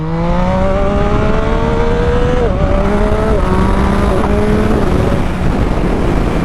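A motorcycle engine revs hard during a power wheelie, rising loudly in pitch with quick shifts and brief dips, set against steady wind rush close to the rider.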